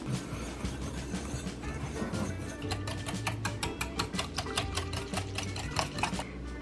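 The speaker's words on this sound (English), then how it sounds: "Now we're gonna mix up this bowl." A spoon or whisk mixes cornbread batter of buttermilk and eggs in a bowl, making a rapid, fairly soft clicking and tapping rhythm that grows more distinct toward the end.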